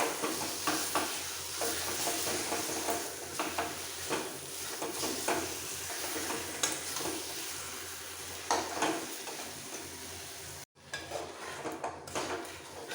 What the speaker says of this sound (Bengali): এবার মশলার সাথে চিকেন কষিয়ে নিতে হবে